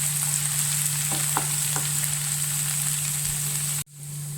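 Garlic, green chilli and spring onion sizzle and fry steadily in a hot pan for a mushroom Manchurian, with faint scrapes from stirring, before the sound cuts off briefly near the end.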